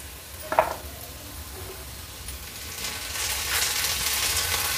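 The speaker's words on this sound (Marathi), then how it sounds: "त्याच्यामध्ये मी आता टोमॅटो घालते" Tomatoes added to browned onions frying in a pan. A brief clatter is followed by a steady, close sizzle that grows slightly louder and hissier as the frying continues.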